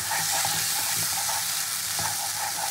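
Spice masala being sautéed in a pan for a capsicum rui fish curry, a loud, dense, steady sizzle with soft rhythmic stirring knocks underneath, heard up close and uninterrupted.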